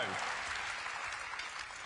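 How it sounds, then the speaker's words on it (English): A rally crowd gives rapturous applause and a standing ovation, a dense continuous wash of clapping at a distance, filling the whole moment without a break. "Rapturous applause. Look, you've got a standing ovation."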